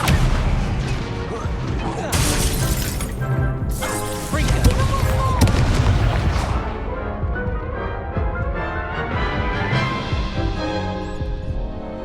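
Spell-casting in the video game Hogwarts Legacy: a disarming spell fired amid a loud, continuous barrage of booming, crashing combat effects and dense music, with repeated impacts and smashes over about twelve seconds.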